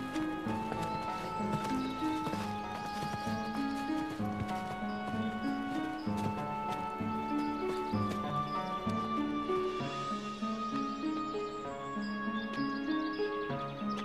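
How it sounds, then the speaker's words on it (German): Horses clip-clop in a steady trotting rhythm, with a horse neighing several times over the hooves, fairly close. "bindet die Pferde fest"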